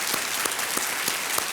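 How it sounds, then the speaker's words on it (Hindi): A studio audience on a television quiz show claps in steady, continuous applause. The sound is dense and even, with a few louder claps standing out at regular intervals. "तालियों के साथ एक बार इनका अभिनंदन कर देते हैं।"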